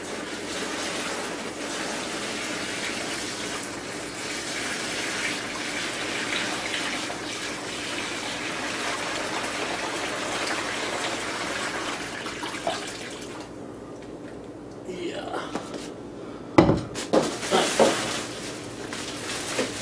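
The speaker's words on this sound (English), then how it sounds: "So fill up whatever container you have your vegetable stock in and full of water" Tap water pours steadily into a container holding a turkey in vegetable stock brine, a constant splashing rush. It stops near the end and gives way to a few louder knocks and sloshes.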